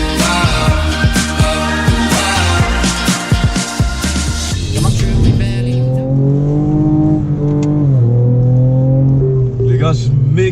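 A 400-horsepower Ford Ranger Raptor driven hard across Namibian desert terrain, the engine note climbing and dropping through revs with sharp rasping bursts early on, then settling into a steadier droning pull.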